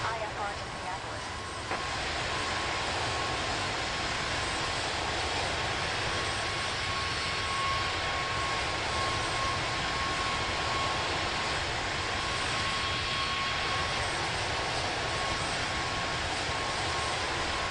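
Airliner jet engines hum and whine steadily in Microsoft Flight Simulator 2024 while the plane waits at the runway, a constant broad drone with a faint tonal whistle; radio-style talk runs over it.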